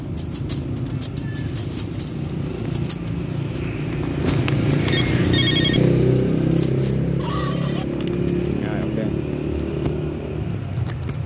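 A metal key pries open toy-battery packaging, making scattered jangling clicks and scraping over a steady low road-traffic rumble, with a faint voice in the background.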